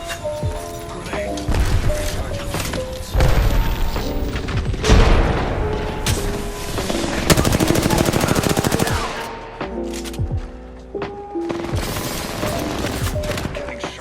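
Gunfire in the video game Apex Legends, rapid bursts of automatic shots and heavy booms nearly continuous, loud and close, with brief pauses and game sounds between volleys.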